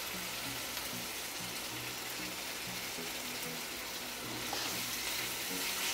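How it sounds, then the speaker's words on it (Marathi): Chopped tomato with salt sizzles and fries in a pan, a dense continuous hiss close by with faint stirring movement and a steady low hum underneath. "आणि चांगलं जरा सॉफ्ट होतं आपण ना त्याला परतून घेऊया बघा"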